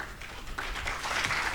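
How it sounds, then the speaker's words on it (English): An audience at the launch of the Rwanda Governance Scorecard claps before a speech by the UNDP Resident Representative, a soft, muffled patter of many hands that builds slightly, distant and faint. "It is always so encouraging when they clap for you before the speech"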